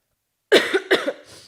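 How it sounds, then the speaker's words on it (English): Two sharp coughs in quick succession, close and fairly loud, followed by a faint breathy tail; no talking. "As I cough from a coughing reflection I have."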